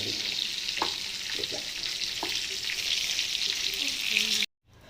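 Constant crackling sizzle of tiger prawns frying in hot oil, with a few soft clinks, ending abruptly.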